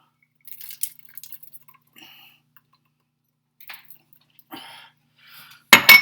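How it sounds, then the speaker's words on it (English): Diced celery drops into a soup pot as sparse soft patters and light clicks against near silence, ending in a louder, sharper burst of pieces tumbling in. "We're going to put in about a cup of celery. Pour it in."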